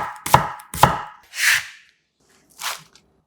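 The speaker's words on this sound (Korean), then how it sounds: "얇게 채 썰어 담아주세요." A knife thinly slicing fresh seasonal onion on a cutting board: two sharp close chops, then two softer drawn-out slicing strokes separated by brief silences.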